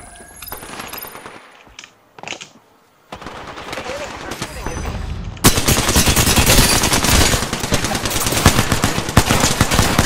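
Rapid automatic gunfire in the shooter game Apex Legends, with dense bursts that build into loud, sustained volleys in the second half after a quieter opening; no talking.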